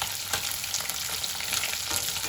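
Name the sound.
tilapia fish frying in oil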